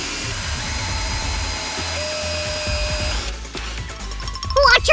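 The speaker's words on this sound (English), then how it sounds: "And here comes the drill again." A handheld power drill bores into a bottle lid, giving a steady, close whirring drone for about three seconds before a burst of higher, scratchier sounds near the end.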